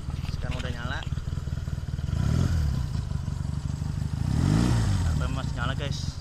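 Classic 1976 Honda CB200 twin motorcycle engine running just after starting, a close, uneven low rumble that swells twice in revs over a few seconds, with people talking over it.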